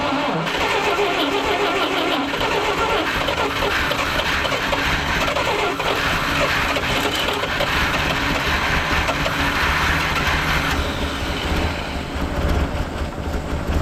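A 1958 Lull cherry picker that sat unused for 15 years runs steadily after starting, its old engine giving a loud, continuous rumble with rough broadband clatter for the whole stretch, heard close with no talk over it.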